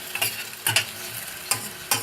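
Onions and garlic fry in a pan with a continuous close sizzle, broken by a handful of quick scraping stirs at irregular intervals.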